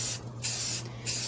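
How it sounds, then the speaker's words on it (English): Spray paint hissing from an aerosol can onto a tumbler cup in steady bursts, a continuous close, loud hiss with two short pauses between passes. "You don't want to just hold down your spraying."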